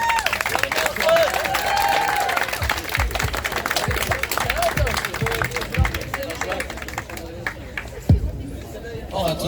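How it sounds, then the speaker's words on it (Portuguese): A university crowd in Coimbra claps in a burst of applause that fades over several seconds, with chatter and voices mixed underneath and a thump near the end. "parabéns ao Nelson, pessoal, batam palmas"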